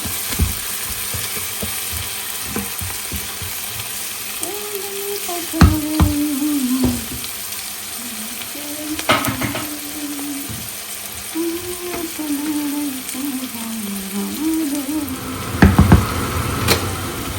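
A meat curry with tomatoes cooks in a pan, giving a steady close sizzle. Occasional knocks and scrapes of a stirring utensil break through, with no talking.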